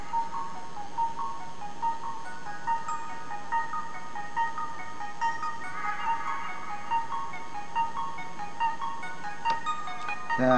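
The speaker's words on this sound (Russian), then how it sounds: "Значит, сейчас попробуем музычку записать." Tinny melody played from a phone speaker into the microphone of an ISD1820 voice recorder module, a steady run of bright electronic notes heard fairly close and moderately loud for the whole stretch, with no talking.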